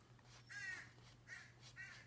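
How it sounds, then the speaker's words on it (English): A crow caws several times at a distance, harsh calls spaced out over a quiet background with a low hum. "I hear a crow in the background."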